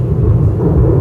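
Deep, loud thunder rolls through a Kalbaishakhi thunderstorm in a steady low rumble that fills the whole second without a break.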